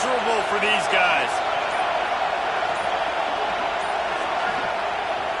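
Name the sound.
football stadium crowd noise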